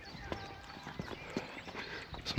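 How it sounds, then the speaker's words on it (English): Horses walking near Osmotherley in North Yorkshire, hooves clip-clopping in a faint, irregular pattern of soft knocks outdoors, with a louder bump at the very end and no talk. "Some horses. We're going to come over."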